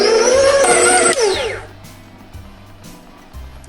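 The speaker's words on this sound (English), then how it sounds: "we are going to mix that until it kind of incorporates into a dough" Electric mixer working gluten-free gingerbread dough, a loud whirring motor whine that runs for about a second and a half, then winds down and fades into quieter background noise.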